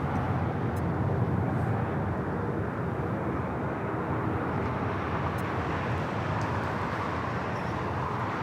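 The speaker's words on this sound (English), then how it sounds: "Japan Airlines, the flight coming in from Tokyo Narita, 787-9 Dreamliner heading to the north side." A Japan Airlines Boeing 787-9 Dreamliner arriving at Los Angeles airport, heard as a continuous broad jet roar with a low rumble, steady and fairly distant with no clear rise or fall.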